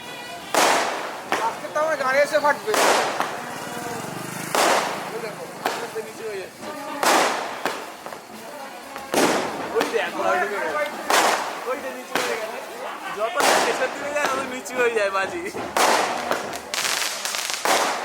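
Firecrackers burst at a decorated house celebration, with about a dozen sharp, loud cracks going off at irregular intervals. People talk between and under the bangs.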